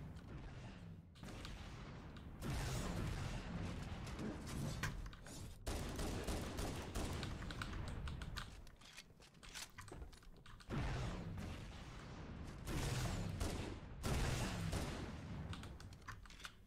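Sustained automatic gunfire from holding the trigger down in Halo: Combat Evolved, a dense continuous rattle of rapid shots running across the whole stretch with brief breaks, loud and close in a busy game mix.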